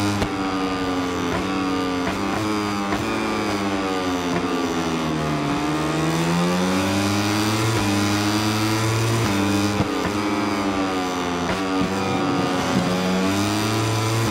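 A Moto3 racing motorcycle in a video game at the Indonesian GP screams through the gears, its high engine note rising and dropping repeatedly as it brakes and accelerates, loud and close with no talk.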